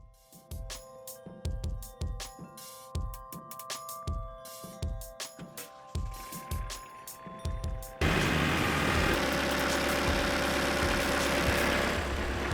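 A heavy tractor engine chugs with rhythmic low thumps for several seconds, then surges into a steady, louder roar as it revs up, with no voices, on a farm.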